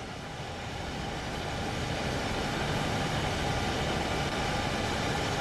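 A DABpbzfa 766.2 train coasting in Train Sim World 5, with the power controller off, gives a steady broadband rolling rumble of wheels on track that swells slightly at first and then holds level, with no voices.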